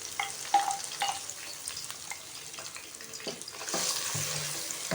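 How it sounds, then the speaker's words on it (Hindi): Tomato paste and onion paste fry in a pan, a continuous close sizzle broken by scattered clicks and scrapes of stirring, growing a little louder and fuller near the end. "इसमें डालेंगे 2 अदद टमाटर का पेस्ट। साथ ही हम इसमें प्याज का पेस्ट डाल देंगे।"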